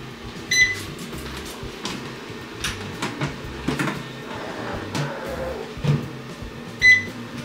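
An air fryer running steadily while bacon-wrapped steak fingers crisp with butter, a constant fan hum broken by a few soft clicks and knocks, close and even.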